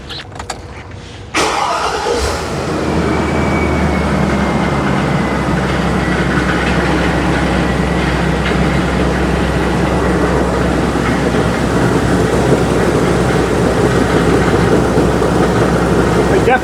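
A cold Chevrolet Silverado 6.0 V8 with an exhaust leak cranks and fires up in a shop, then settles into a loud, steady, growling idle that fills the space.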